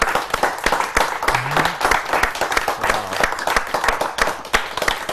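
Audience applause after a magic lecture, a room of people clapping steadily and closely for the whole stretch, with a faint voice briefly audible beneath.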